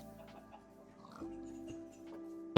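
A Minecraft chicken clucking in its pen, a few soft short clucks at low volume over quiet game ambience.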